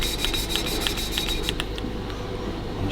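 Honing a Harley Davidson WLA cylinder barrel gives a rhythmic scraping rasp with evenly spaced strokes, continuous and close, with no talking.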